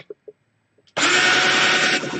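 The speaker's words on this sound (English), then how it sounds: "So all you do is drill another hole." A power drill suddenly whines at full speed into the plastic shell of a repaired fighting robot, loud and close, after a few soft clicks and handling taps.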